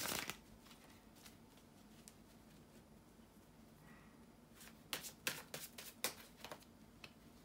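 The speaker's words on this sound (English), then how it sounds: "bear with me a second, guys, to shuffle the tarot cards" Tarot cards being shuffled close by: a quick riffle at the start, quiet handling, then a run of sharp slaps and riffles toward the end, with no talking.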